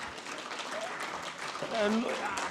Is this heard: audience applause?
yes